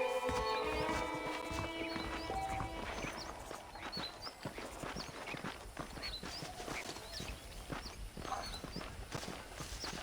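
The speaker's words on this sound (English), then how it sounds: "The horses are saddled up over here." A horse walks with steady clip-clop hoof beats in the western video game Red Dead Redemption, with soft tonal music at the start and quiet ambience throughout.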